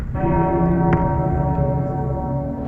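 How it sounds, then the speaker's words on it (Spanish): A deep, invisible bell tolls once, its low sustained harmonics ringing on and slowly decaying, loud and alone with no voices. "la campana invisible sonó, tan profunda que me hizo temblar los huesos"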